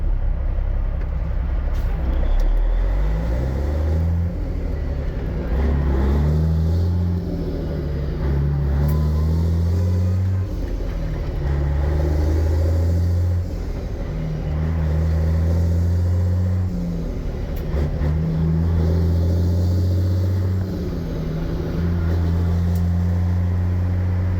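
A 1989 Peterbilt 379 truck with a straight-piped CAT 3406B diesel, heard from the cab while riding: a deep, loud rumbling drone that rises and falls through repeated gear pulls, with no talking.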